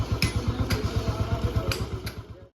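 An old Royal Enfield Bullet 350 AVL single-cylinder engine, freshly restored, idles close by with a steady, even thump-thump beat and light mechanical clatter for about two and a half seconds before cutting off.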